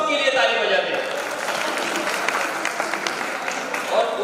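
An audience at a radio listeners' conference in Buldhana claps in a dense, continuous burst of applause that fills the hall, with voices mixed in.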